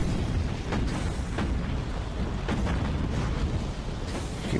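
Dense, continuous naval gunfire and muffled explosions from the warship video game Battlestations Pacific, a rumbling barrage of overlapping booms with occasional sharper bursts.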